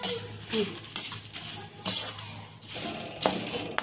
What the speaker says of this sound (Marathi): आपण छान असं भाजून घेऊया.